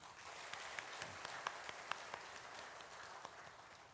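Scattered clapping from a church congregation after a choir hymn at a Sunday service, steady and moderately quiet, with a few sharper claps standing out over a soft wash of applause.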